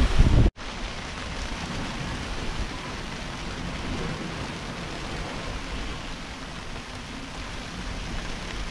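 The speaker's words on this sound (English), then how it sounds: "what a load of wind" Strong squall wind roars across a sailing boat during a rough crossing to Inagua, a brief loud rush followed by a dense, steady broadband roar that stays close and unbroken throughout.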